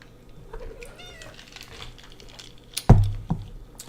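A house cat gives a soft, rising meow near a computer keyboard, with light typing around it and a sharper thump near the end; no one talks over it.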